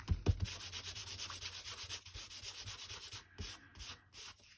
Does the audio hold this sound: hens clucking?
no